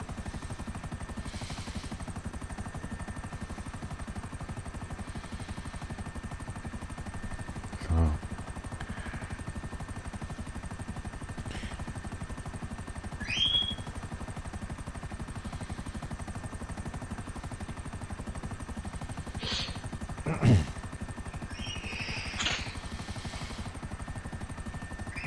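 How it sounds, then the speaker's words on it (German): A helicopter in GTA V Online flies in a continuous low rotor drone with steady chopping throughout, joined by a few short sharp game effects. "das ist ein Helikopter und kein Haifisch"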